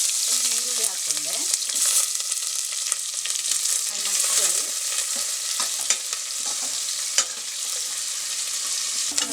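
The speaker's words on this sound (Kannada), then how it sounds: "ನೋಡಿ, ಈರುಳ್ಳಿ ಕಾಯ್ತಾ ಇದೆ." Chopped onions frying in a pan with urad dal and chillies, continuous close sizzling with regular scraping stirs throughout.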